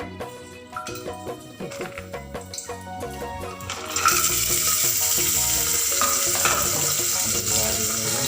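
Raisins and nuts frying in hot ghee for pulao, a light crackle that jumps to a loud, steady sizzle partway through, close and continuous with no talk.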